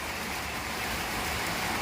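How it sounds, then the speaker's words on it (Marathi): Dense, even hiss of heavy rain falling steadily, a constant wash of sound with no voices. "बघा केवढा पाऊस पडतोय बाहेर"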